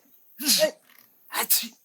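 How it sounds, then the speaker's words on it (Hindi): Two sharp sneezes in quick succession, close and fairly loud, separated by a short pause with faint breathing and no talk. "देखिए छींक भी रहा है।"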